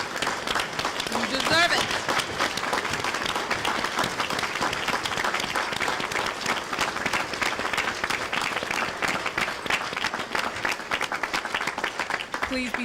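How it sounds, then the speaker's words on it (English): College freshmen at an orientation give a standing ovation, a dense, sustained roar of applause that fills the whole stretch at steady loudness, with a voice briefly speaking over it. "Give yourselves a standing ovation."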